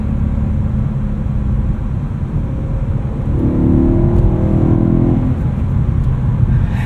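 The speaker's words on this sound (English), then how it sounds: "This 4-liter V8 sounds absolutely fantastic. There's not a lot of torque, so you have to rev it out, and it absolutely loves it." A BMW E92 M3 Lime Rock Edition with a 4-liter V8 and 6-speed manual revs, its engine note rising into a loud, steady rumbling drone from inside the cabin, with no talk.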